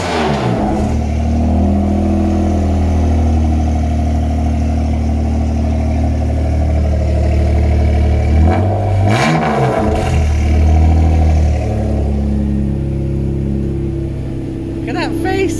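A Honda NSX with a newly fitted exhaust idles loudly up close, with a sharp rev swelling and falling midway before settling back to the steady rumble, while a person talks over it.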